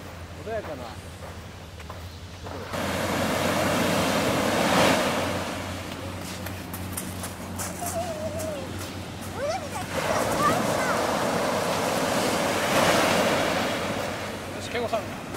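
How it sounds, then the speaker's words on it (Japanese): Calm ocean surf at Katsurahama beach in Kochi, Japan, washing in soft rolling swells under steady wind noise, with people chatting over it. "波の音がよく聞こえるよね。"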